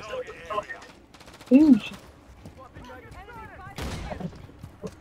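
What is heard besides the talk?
gunfire in video game Call of Duty MW3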